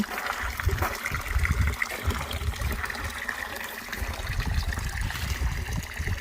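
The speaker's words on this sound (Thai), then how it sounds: "มีน้ำไหลออกมาด้วยค่ะ น้ำไหลออกมาจากผนัง" Water trickles and splashes steadily out of a garden wall nearby, a continuous wet babbling with low rumbling, no voices over it.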